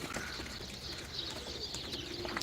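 Play pigeons at a live pigeon auction coo softly in a low, soft murmur that continues throughout, fairly quiet and close, with no clear speech.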